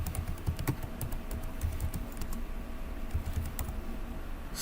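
Quick, steady tapping on a computer keyboard while a terminal command is entered, soft and close with no talk, a run of light clicks over a low background hum.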